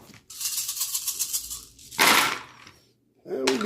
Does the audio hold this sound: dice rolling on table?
yes